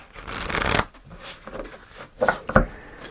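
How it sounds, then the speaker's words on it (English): A deck of tarot cards is shuffled by hand up close, with a riffling burst followed by several quicker flicks and taps. "Just going to do one more shuffle."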